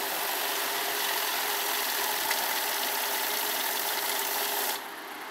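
A Kavinstar currency counting machine runs through banknotes with a steady, close mechanical whir and rapid flutter that holds evenly, then drops to a quieter hum near the end.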